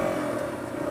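Yamaha XT250 dual sport motorcycle engine holding a steady, buzzing drone with faint rattle, close and continuous, in a short burst without speech.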